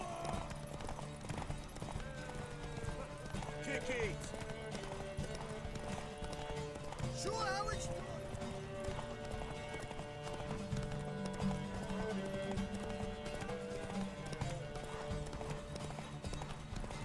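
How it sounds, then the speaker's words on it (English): Horse hooves galloping in The Witcher 3, a steady rhythmic clip-clop under game music and ambience, with a brief whinny and someone talking over it. "Is my horse gonna run out of stamina?"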